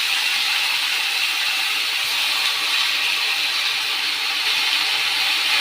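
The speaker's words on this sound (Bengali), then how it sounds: "শাকটা শুধু পেঁয়াজ দিয়েই রান্না করছি" Leafy greens cook with onion in a pan, producing a steady, unbroken sizzling hiss at an even loudness throughout, with no voices.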